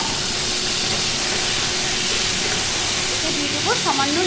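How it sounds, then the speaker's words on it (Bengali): Potatoes dropped into plenty of hot oil left in a wok (kadai) after frying fish heads give a steady, loud, bright sizzling hiss, with a voice talking briefly near the end. "এই তেলের মধ্যে আমি দিয়ে দিচ্ছি আলু।"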